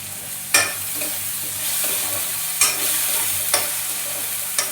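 Vadi curry being stirred and fried in a pan: a steady sizzle of frying runs throughout, broken by a few sharp scraping stirs of the spoon against the pan, close and fairly loud, with no talking.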